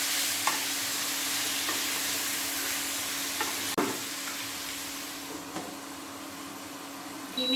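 Prawn curry with kohlrabi and radish stirred in a pan, a steady hiss of frying under occasional scrapes and taps of the spoon against the pan.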